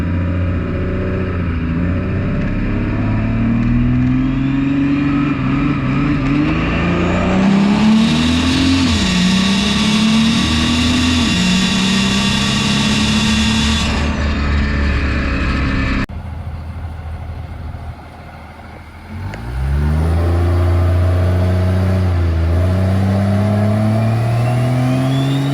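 A diesel truck running on fuel only, without nitrous, in the staging lanes at Beech Bend drag strip in Kentucky revs loud and close, climbing repeatedly. It drops off briefly, then roars back up as it launches.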